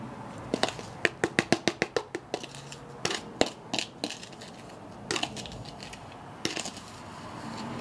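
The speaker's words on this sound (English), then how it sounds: "Rest of this in, get it packed down a bit, get some of the glass on top, get the lid on it" A crucible charge of wootz steel is packed down in a series of sharp metallic taps and crunches. A quick cluster of about ten comes first, then scattered single knocks, close and clear over low background noise, with no talking.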